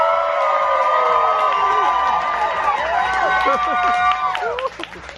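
A large audience at a costume contest on a Disney Cruise Line ship cheers, shouts and whistles loudly and continuously, with a few rising whoops near the end.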